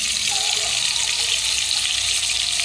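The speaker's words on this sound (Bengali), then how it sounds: "ডিমটা আমি দিয়ে দিলাম, ডিমটাকে ভেজে নেব।" An egg frying in oil in a pan gives a steady, bright hiss and crackle that holds evenly throughout, close by and without any talking.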